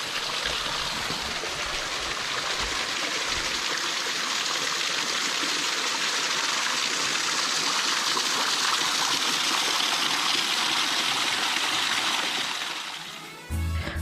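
Water of Dhangikusum waterfall flows over rock in a steady, full rushing roar, close and continuous, dropping away briefly at the very end.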